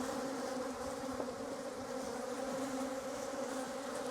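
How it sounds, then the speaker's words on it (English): A swarm of honey bees buzzes densely around a beekeeper on a farm in Portugal, a loud continuous hum close to the microphone with no talking. "I'm just getting absolutely annihilated here by bees"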